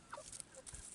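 A hen clucks a few short times close by while being handled and petted, soft scattered calls over a light background rustle.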